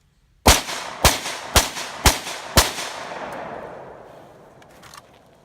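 Rifle firing five evenly spaced sharp shots outdoors in woods, each crack about half a second apart and followed by a long echoing decay that fades after the last round.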